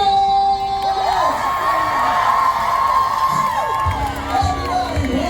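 A crowd cheers, whoops and shouts at a loud, dense level throughout, with high children's yells and screams rising above the roar.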